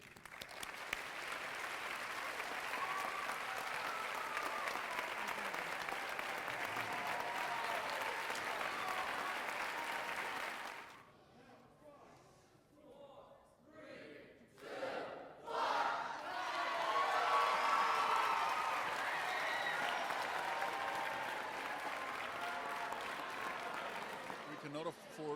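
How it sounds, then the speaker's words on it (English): School ceremony audience at Orlando Christian Prep applauding steadily for about ten seconds, then a brief lull followed by a second swell of clapping and crowd noise. "let's all applaud the hope that tomorrow will be great"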